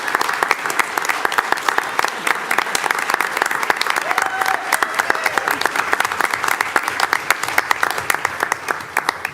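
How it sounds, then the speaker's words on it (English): Loud, continuous clapping from a crowd at a school board meeting, a thick rapid patter holding steady from start to finish. "that gets a big round of applause"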